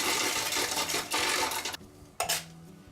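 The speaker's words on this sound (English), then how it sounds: "So now that we have crushed off our ice" An ice crusher machine grinds ice cubes for cocktails behind a bar, a loud, dense rattling crunch for almost two seconds, then a pause and one more short burst of crushing.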